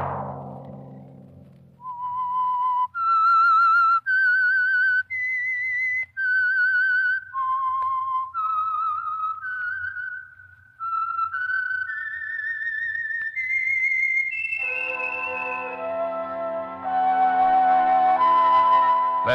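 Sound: whistle

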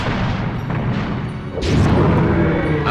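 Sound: cannon fire in the video game Medievil

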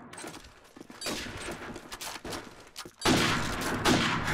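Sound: sniper rifle shot in a video game

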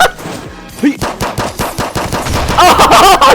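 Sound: gunfire in Call of Duty video game

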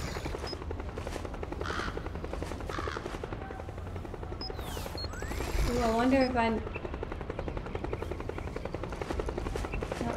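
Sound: helicopter in the video game Metal Gear Solid 4

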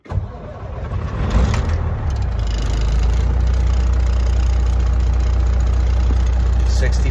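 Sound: cabover truck engine started and idling

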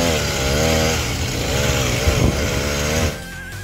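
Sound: homemade motorized chopper bicycle engine running

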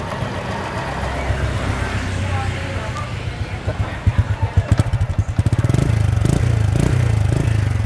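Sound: Honda Super Dream 2001 motorcycle engine running

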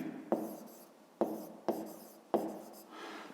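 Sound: writing down a maths solution

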